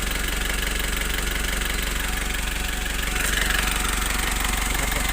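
A rebuilt engine in a Foton Traveller van, fitted with a new crankshaft and piston, idles with a steady, even running drone, close and continuous, with no talk.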